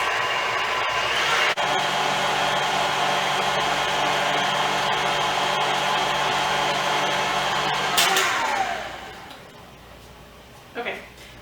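Electric mixer whisking cream at high speed for strawberry shortcake, a loud steady whir running unbroken for about eight seconds before winding down, followed by a brief clatter; a voice speaks over it.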